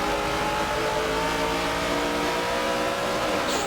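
Stock cars in a racing video game roar as they accelerate together at a green flag restart during the Daytona 500, a dense, steady engine drone with layered revving that holds at constant loudness throughout.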